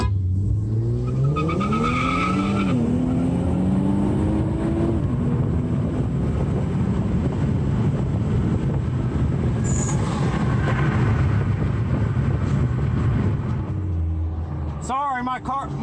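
An Infiniti Q50 3.0T races with a rising engine note that climbs through gears, then settles into a loud, sustained roar and road rumble, with voices speaking over it.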